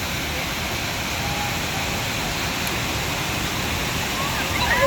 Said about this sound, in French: regardez la descente de l'extrême. Le flume il va se faire rincer là.